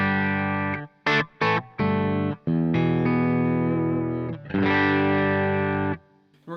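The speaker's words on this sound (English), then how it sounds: "I'm going to use a Sir Telecaster and the Sir Badger 30 amplifier." Clean amp tone from a Telecaster electric guitar played through a Badger 30 amplifier: sustained strummed chords with a few short stabs and gaps, loud and alone with no talking.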